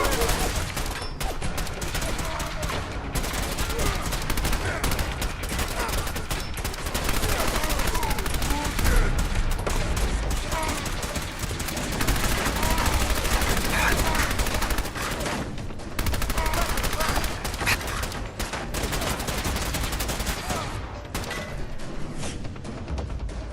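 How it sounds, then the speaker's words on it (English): Tommy gun bursts in a video game, dense and loud sustained automatic fire rattling almost without pause, with short gaps and heavy clutter throughout. "I'll just go full mobster with my Tommy gun here."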